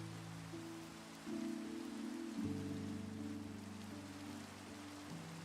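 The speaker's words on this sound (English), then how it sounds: "I really enjoyed the rain coming in with the music" Steady rain falls in the Minecraft game world among cherry trees on a hill, a soft continuous patter under layered background music whose sustained tones shift partway through.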